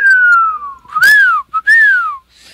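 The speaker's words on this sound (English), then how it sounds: "I whistle between my teeth." A man whistles through his teeth without using his fingers, giving a loud, close, two-part call of long sliding notes that drop in pitch, each with a brief rise, heard alone.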